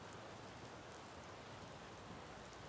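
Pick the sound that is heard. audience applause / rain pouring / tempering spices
rain pouring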